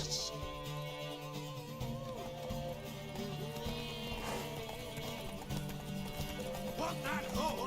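Horse hooves clip-clopping in The Witcher 3, a steady galloping patter under a dense bed of game music and ambience, moderately loud.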